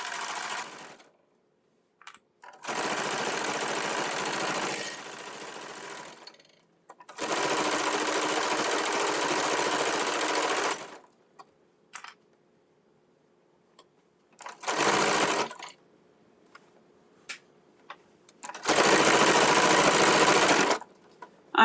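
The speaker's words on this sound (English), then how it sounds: "She is just now sewing the straps for the bag." Sewing machine stitching the straps of a market tote bag with thick batting, running in several loud, steady bursts of a few seconds each, separated by quiet pauses with faint handling clicks.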